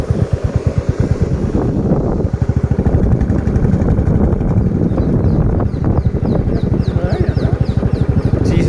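A motorbike engine running steadily with a rapid pulsing throb while riding along a cold forest road, loud and close, with wind buffeting the microphone throughout.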